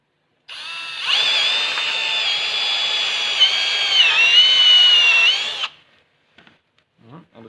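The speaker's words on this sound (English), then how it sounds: "I'm going to drill one on this side here." A power drill bores a hole through a Honda Super Cub NBC110 Postie motorcycle part, a steady high-pitched whine lasting about five seconds with a rising pitch near the end, then stopping abruptly before faint scraping sounds.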